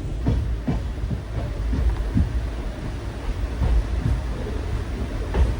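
A train passes through Kundapura station with a steady low rumble and a regular series of heavy wheel clunks, heard from close by under gusty wind noise.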